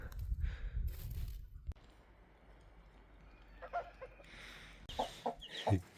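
Winter chicks and hens in a snowy village yard give faint, scattered clucks and soft peeps after a muffled thump, quiet and at a distance with no voices.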